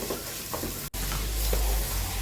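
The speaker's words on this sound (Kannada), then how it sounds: "2 ಸ್ಮಾಲ್ ಸೈಜಿದು ಟೊಮೆಟೊ ಹಣ್ಣು ಇದೆಯಲ್ವ, ಅದನ್ನು ಹಾಕಿ ನಾನಿಲ್ಲಿ ಚೆನ್ನಾಗಿ ಫ್ರೈ ಮಾಡ್ಕೋತಾ ಇದ್ದೀನಿ" Tomatoes fry in a hot pan with oil, giving a loud, continuous sizzle broken by a brief cut, with faint stirring scrapes underneath.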